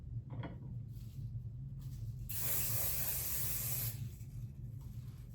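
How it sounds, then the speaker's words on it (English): Revolution Superfix fixing spray is misted in one long hiss of about a second and a half, close and loud against a quiet room, with faint handling sounds before and after. "this is Superfix by Revolution, and it's a fixing spray"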